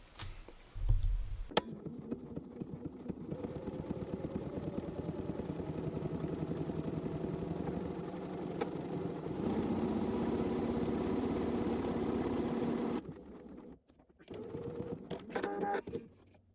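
A home sewing machine stitches buttonholes on knit fabric using a knit-specific buttonhole setting, whirring in a steady rapid rhythm close by, shifting pace partway through, pausing briefly and then resuming in short bursts near the end.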